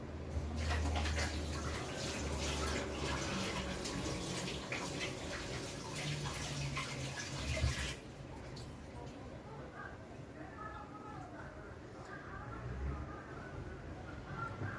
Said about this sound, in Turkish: Elimi bir yıkayayım.